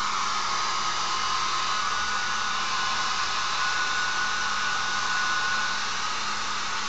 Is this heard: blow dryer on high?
yes